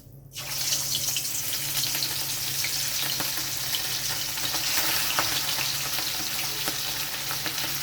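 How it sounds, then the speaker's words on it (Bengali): Katla fish pieces fry in hot oil in a wok, a loud, steady, dense sizzle that runs almost unbroken from just after the start to the end, with no voices. "তেলটা গরম হয়ে গেছে, এবার আমি মাছগুলো ভেজে নেব।"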